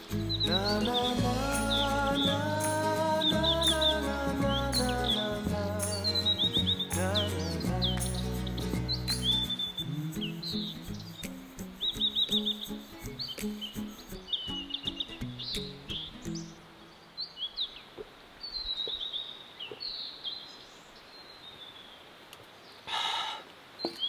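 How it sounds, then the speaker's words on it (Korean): Birds chirp and sing in a forest around a campsite, bright repeated tweets carrying through the whole stretch, at first over music with a steady beat, then heard alone against a quiet background. "어디나 깊게 들어가면 새소리가 진짜 잘 나는 것 같아."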